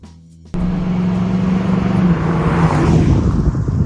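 Engine of a 1984 Oldsmobile Hurst Olds drag car, starting abruptly after a quiet moment and holding a loud, steady roar that builds slightly with a harsh, rough edge, with no voices.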